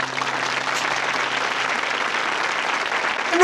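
Steady crowd applause in the video game Frog Detective, set in Cowboy County: a dense, even wash of clapping that holds at one level for a few seconds.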